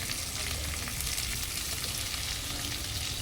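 Dried prawns frying in a pan, a steady broadband sizzle filling the whole stretch at even loudness with no pauses and no voices.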